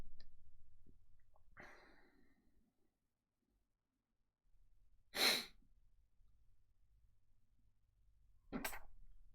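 A single sneeze bursts out sharply after a soft sigh or breath, followed by a second brief burst a few seconds later, close and isolated against near silence.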